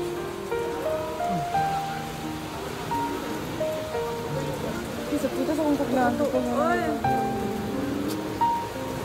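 Heavy typhoon rain beats down in a steady, dense hiss that never lets up, while people talk close by over the downpour.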